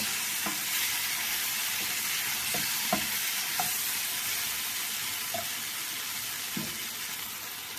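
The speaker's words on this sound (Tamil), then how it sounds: "நல்லா பச்சை வாசனை போக தக்காளி நல்லா வதங்கிடுது" Tomatoes and masala sauté in a pan for fish gravy, giving a steady close sizzle with occasional scraping stirs of a spoon.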